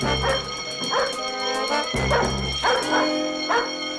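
Several dogs bark in short bursts roughly every half second, fairly close, over a steady tonal hum in the background.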